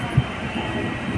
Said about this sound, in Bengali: ট্রেনে বসে গেছি, ট্রেন ছেড়ে দিচ্ছে।